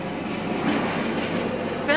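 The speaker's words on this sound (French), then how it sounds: "Là, il y a un hélicoptère qui passe." A helicopter passes overhead outdoors as a steady, broad aircraft rumble fills the whole stretch, with people talking over it.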